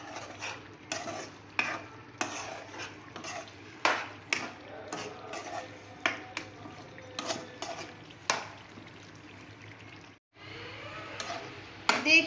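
Chicken kadhai with crushed red chilli stirred in a pan, a spoon scraping and clattering in repeated strokes over a steady sizzle of frying, close and moderately loud.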